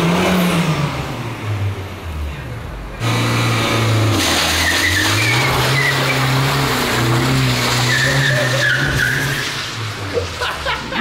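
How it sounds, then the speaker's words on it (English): A 2018 Honda Civic Type R engine revs hard while tires squeal and skid in a sustained burnout, loud and continuous for several seconds, with a sharp jump in intensity partway through. "He's going to do burnouts"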